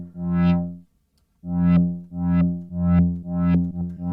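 Snappy synth notes from Serum with a short attack and zero sustain, sounding as four loud, bright plucks with a low body. The first stands alone, followed by a brief gap, then three more in an even rhythm.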